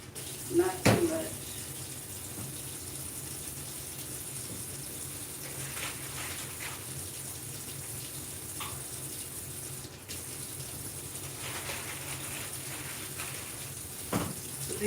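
A faucet pours a small amount of water over candied yams in a kitchen, a steady rushing stream that holds for the whole stretch, broken by a few sharp clunks of cookware.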